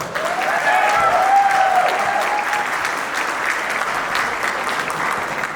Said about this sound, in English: A big round of applause for my good friend Michael Parsa